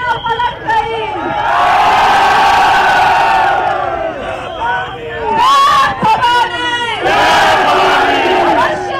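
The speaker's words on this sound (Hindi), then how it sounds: "लोगों की अपार भीड़ ने कंगना का उत्साह भी बढ़ा दिया" A large crowd at a political rally in India cheers and chants loudly, waves of massed shouting rising and falling close by, continuous throughout.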